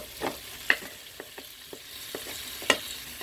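Garlic sizzles steadily in hot oil in a Cookeo pot with cardamom already browned, crackling close with a few sharp pops and spoon stirs over the continuous frying hiss.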